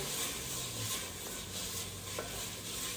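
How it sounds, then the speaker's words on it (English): Vodka cooking in a pan for spaghetti alla vodka, giving a steady close sizzle with soft stirring scrapes throughout and no one talking. "You're basically going to cook out the alcohol in the pan."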